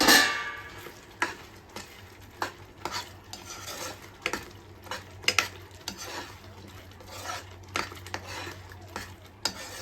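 Spoon stirring fried onions into white sauce pasta in a pan, giving a string of clinks and scrapes against metal with a soft sizzle beneath, steady and close, no voices.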